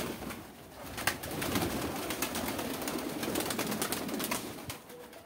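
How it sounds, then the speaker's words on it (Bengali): Pigeons coo and flutter close by, with repeated sharp wingbeat-like clatters over a steady rustling background as the birds are let go to fly. "এখন কবুতরগুলো উড়িয়ে দিই"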